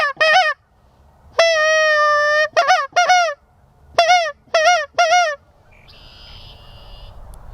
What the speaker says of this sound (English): We got geese coming now.